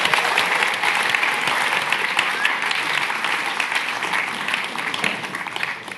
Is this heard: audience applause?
yes